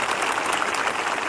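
A congregation at a Christian prayer meeting claps in a brief, dense burst of applause, steady and fairly loud throughout.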